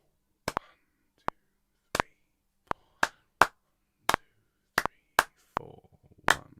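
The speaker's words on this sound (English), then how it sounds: "Let's clap all the way through and we'll do it twice" A group claps a dotted rhythm, sharp separate claps landing in uneven long-short patterns, fairly close and dry with silence between hits.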